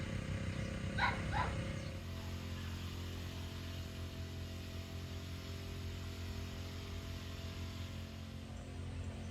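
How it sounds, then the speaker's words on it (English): A few short barks from puppies next door near the start, then a steady low hum with no further barking. "Puppies next door."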